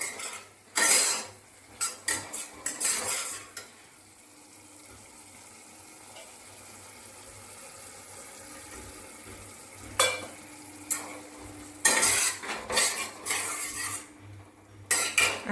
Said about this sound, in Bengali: এবার মশলাটাকে মিশিয়ে নেব এবং ভালো করে কষতে দেব